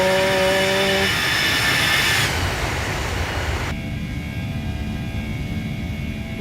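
A simulated MD80 airliner roars steadily with a loud, rough engine drone. The sound shifts abruptly in tone partway through as the camera view changes, with no talk.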